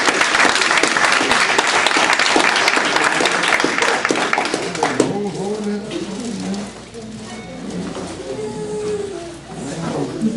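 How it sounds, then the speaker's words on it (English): Audience at a school district board meeting claps for honored students, a dense burst of applause for about five seconds that thins into scattered clapping while voices murmur underneath. "Let's give all of our students a round of applause."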